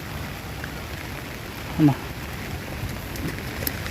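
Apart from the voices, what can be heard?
rain falling in Bangalore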